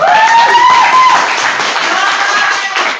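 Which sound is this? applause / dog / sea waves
applause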